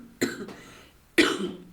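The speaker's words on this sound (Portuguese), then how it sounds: "eu fui tossir" Two sharp coughs from a woman about a second apart, close and fairly loud, each with a brief raspy tail, no talking around them.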